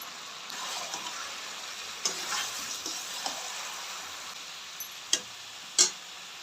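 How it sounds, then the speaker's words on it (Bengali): Chicken and bottle gourd cooking in a pan, a soft continuous sizzle with light stirring scrapes and a few sharp clicks near the end, no one speaking. "এবারে কেটে রাখা লাউগুলো দিয়ে দেবো"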